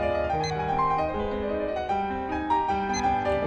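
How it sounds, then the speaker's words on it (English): An alarm clock standing in for a film bomb timer rings continuously, with dense layered tones that sound close and fairly loud throughout. "That's my alarm"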